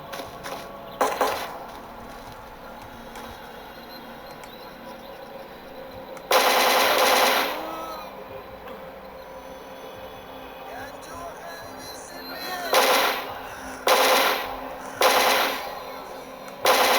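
Krinkov rifle in the game Anomaly firing a sustained burst, then several shorter bursts, loud and close over ambient background noise.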